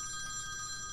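A phone in the horror video game Nightmare Visitor rings with a steady, continuous electronic trill, loud and even throughout the short moment with no voices over it.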